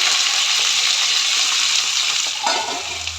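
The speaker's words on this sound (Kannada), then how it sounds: "ನಾನು ಇಲ್ಲಿ ಆಲೂಗೆಡ್ಡೆನ ತೊಳೆದಿಟ್ಟಿದ್ದೀನಿ ಅದನ್ನು ಹಾಕ್ತಾ ಇದ್ದೀನಿ" Washed potato pieces going into a pan of frying oil, a loud, continuous close sizzle with a burst of clattering and hissing near the end as they hit the pan, no voices.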